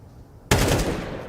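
Sudden loud burst of rapid gunfire from a weapon in Counter-Strike 2 on the Inferno map, starting abruptly and continuing as a dense sustained rattle.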